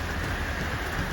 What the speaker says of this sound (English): Well, the rain has now started.